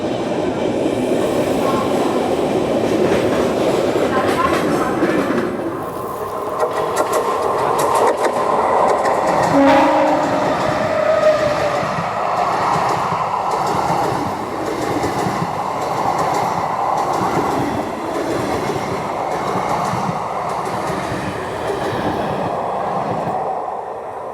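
The 22847 Visakhapatnam–Mumbai LTT Superfast Express runs on toward Kalyan Junction with a loud, continuous rumble and rhythmic clatter of wheels on rail joints, steady and close throughout.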